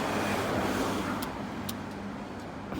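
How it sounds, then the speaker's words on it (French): A Volkswagen Passat W8 engine with a modified exhaust line gives a continuous, fairly loud rumble throughout, steady with no sharp changes and no talk over it. "le bruit de la voiture a été transformé"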